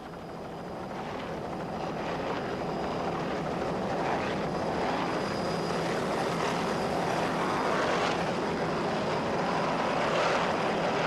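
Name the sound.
30-foot Wellcraft Scarab offshore powerboat racing, throttling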